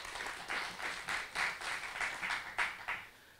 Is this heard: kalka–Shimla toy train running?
no